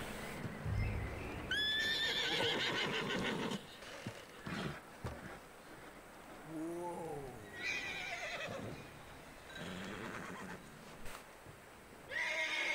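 A horse in the video game Red Dead Redemption 2 gives several loud, rising whinnies and snorts, with clip-clopping hooves and shuffling movement in between, close up and without talk.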